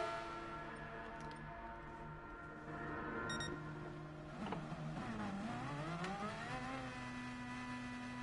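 Race car engines on track in Gran Turismo Sport, with a steady whining engine drone that dips and then climbs in pitch as a car revs, alongside a few faint electronic beeps.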